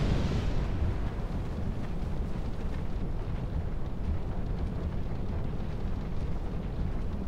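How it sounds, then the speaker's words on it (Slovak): Enemy artillery shelling from a tower in the video game Dark Souls 2, heard as a continuous rumbling barrage of booming explosions, loudest at the start and then sustained as dense low roaring. "Wow, vážne, ona nás obstreluje z vrcholu veže."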